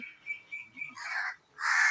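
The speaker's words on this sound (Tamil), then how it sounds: "வெளியில ஒரே காக்கா" Crows caw outdoors: two loud, harsh calls follow a series of shorter, thinner bird notes, all at moderate distance with no voices.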